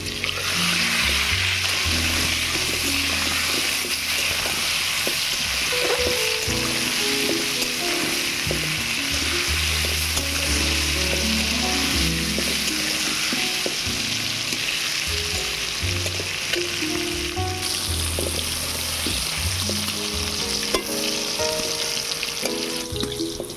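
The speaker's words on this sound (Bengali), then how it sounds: "আলুগুলোকে কিন্তু খুব ভালোভাবে ভেজে নিতে হবে।" Potatoes fry in hot oil with salt and turmeric, giving a steady, loud sizzle with stirring and scraping throughout for the whole stretch.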